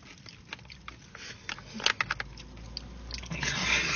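Someone chewing crunchy food close to the microphone, with a few distinct bites and soft crunching rising toward the end, no talking.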